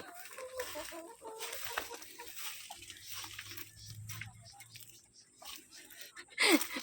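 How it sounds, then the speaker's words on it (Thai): Chickens cluck quietly in short bursts against a faint outdoor background, with some distant voices. "ไก่พันธุ์"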